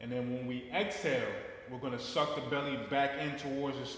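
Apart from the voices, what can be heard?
No distinct noise like a dog, phone or traffic.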